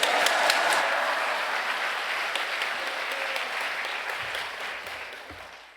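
Applause from a church gathering welcoming a pastor to speak at a retreat session, a dense, steady clapping wash that gradually tapers off over about six seconds.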